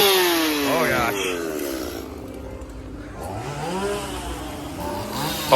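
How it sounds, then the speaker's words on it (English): Chainsaw engine revs and snarls at a Halloween haunted house, rising and falling pitch sweeps mixed with crowd noise and people talking nearby. "We got some more chainsaws."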